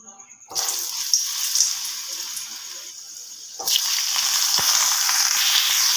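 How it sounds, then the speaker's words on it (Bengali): Potato and cauliflower pieces frying in hot oil with a little turmeric in a wok, a loud steady sizzle bursting in as they go in, dipping, then surging again as more are added. "সব কটা আলু ফুলকপি আমি এখানে দিয়ে দিয়েছি একটু ভেজে নেব"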